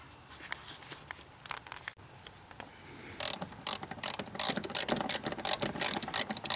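A hand ratchet works on bolts during a fuel filter replacement on a 1990–93 Honda Accord 2.2L, first quiet scattered clicks, then a fast run of loud, close ratcheting clicks.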